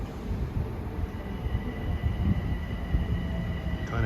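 A Long Island Rail Road diesel passenger train bound from New York to Hicksville rumbles steadily past on a damp day at Carle Place, with a continuous broad roar and faint tonal whine.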